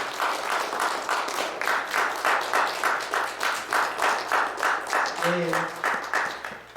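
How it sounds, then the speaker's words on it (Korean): A church congregation applauds after a baptism at a Christmas Sunday service, with steady rhythmic clapping that pulses in unison and a brief spoken word partway through. "우리 박수로 주님께 영광 올립니다"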